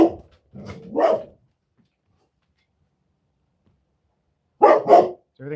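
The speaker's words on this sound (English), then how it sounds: "Dogs are barking." A dog barks in two short bursts, a pair of sharp barks near the start and another pair after a long silence, close and fairly loud with no talking.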